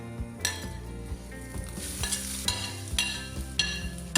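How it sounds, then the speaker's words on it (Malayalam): A coconut mixture with dried red chilli sizzles in a frying pan while a spoon stirs it, giving repeated scraping strokes and clinks over a steady crackling fry, close up with no talk. "ജസ്റ്റ് ഒന്ന് ഇളക്കി കൊടുക്കുക"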